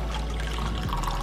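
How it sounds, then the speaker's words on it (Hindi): Half a cup of hot water pours into a glass already holding a pinch of roasted cumin powder, a brief close splashing pour. "अब इसमें मैं डाल दूंगी 1/2 कप गर्म पानी"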